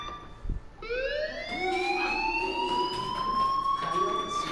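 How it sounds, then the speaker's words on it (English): Fire alarm in the video game Life Is Strange, a loud continuous electronic wail with rising tones that sounds steadily after a brief thump and keeps going to the end. "do you hear that fire alarm? That means you should be outside."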